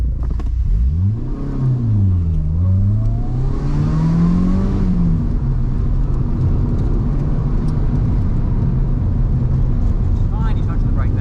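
A race car drives around a motorsport track, its engine rising and falling as it revs through corners, loud and close from the cockpit, with a voice talking over the engine noise.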